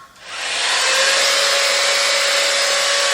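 A cheap AliExpress copy of a Dyson hair styler, fitted with a clip-on attachment, switches on and settles into a steady, loud, high airflow whine with a faint tonal hum, heard alone.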